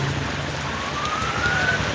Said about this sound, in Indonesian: di perjalanan kita terjebak hujan